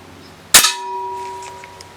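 A single sharp crack from a Baikal IZH MP-61 side-lever spring piston air rifle, followed by a clear metallic ringing that fades over about a second, close and alone.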